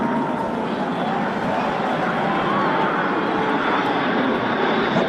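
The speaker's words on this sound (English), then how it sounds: "Oh, that's a bunch of jets." A group of jet aircraft roars overhead in a broad, steady, loud wash of engine noise that persists throughout with no break.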